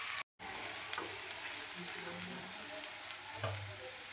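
Soya chunks fry in a pan for soya chilli Manchurian, giving off a continuous close sizzle. A brief dropout comes near the start, and there is no talk.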